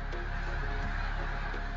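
Snow geese honking during their migration in Québec, a continuous chorus of overlapping calls from a large flock, steady and moderately loud with no voices.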